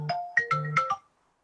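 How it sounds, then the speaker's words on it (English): Phone alarm ringtone going off, a short bright melodic chime of five quick tonal notes lasting about one second, then silence. "that was my alarm for my tip of the day."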